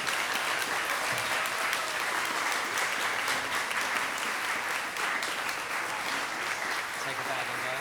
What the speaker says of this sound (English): And one final round of applause.